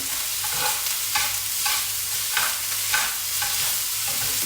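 Fried Vietnamese rice noodles (hu tieu xao) stirred in a hot pan, a steady loud sizzle with rhythmic scraping strokes of the utensils repeating about every second, close up and without talk.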